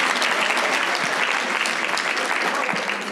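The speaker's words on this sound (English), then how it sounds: "Round of applause," Keynote address audience gives a round of applause, thick continuous clapping from a large crowd filling the whole few seconds at steady loudness.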